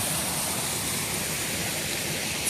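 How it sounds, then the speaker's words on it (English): Water babbles beneath a small bridge at the Morikami Museum and Japanese Gardens, a close, steady rush that stays even throughout the short stretch without speech. "And the sound of the water"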